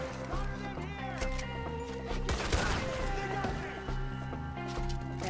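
Gunfire in the Red Dead Redemption 2 video game: shots crack out over a busy game soundtrack with music and ambience, with a louder burst midway.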